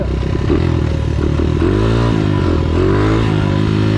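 A motocross motorcycle's engine drones loudly and continuously while riding, its pitch rising and falling with throttle changes and wind noise over the top.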